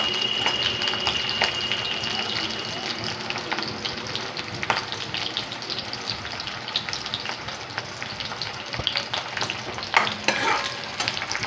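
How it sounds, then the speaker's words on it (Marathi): Masala for shev bhaji frying in a pan, a dense continuous sizzle with frequent stirring scrapes and spatula taps, close and fairly loud, with no talk over it. "आता हा आपण चांगलं तळायचं"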